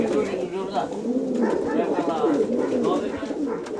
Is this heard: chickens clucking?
no